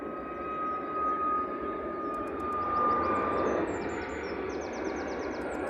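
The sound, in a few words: Ryanair Boeing 737 MAX 8-200 jet aircraft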